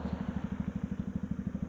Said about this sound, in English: the ride is over and exhaust feel very aggressive and sporty.